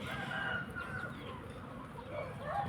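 Chickens in a backyard poultry yard, with a rooster crowing and hens clucking at a moderate distance under a faint background murmur and light rustling.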